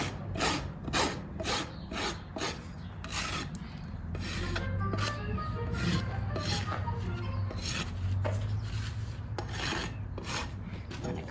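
A farrier's rasp files a bevel into a horse's bare hoof, giving repeated scraping strokes in a steady back-and-forth rhythm, close and fairly quiet, with no talking.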